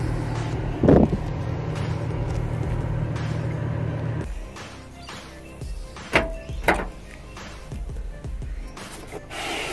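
A 2004 Nissan Maxima idles with a low engine hum, then the engine cuts off partway through, followed by scattered clunks and knocks from the car, with a few faint voices.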